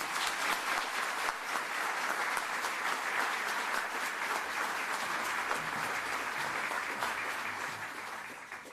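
Sustained applause from an audience at a SACE merit ceremony for students, loud, dense clapping that continues steadily before tapering slightly at the end.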